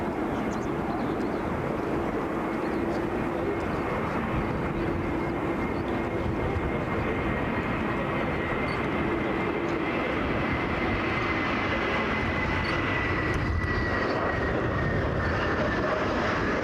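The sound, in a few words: Middle East Airlines airliner at Brussels Airport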